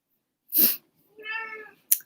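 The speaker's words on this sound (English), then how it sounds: "Oh, my cat." Cat meowing close by in a quiet room: a breathy sound, then a clear, drawn-out meow, and a short sharp click at the end.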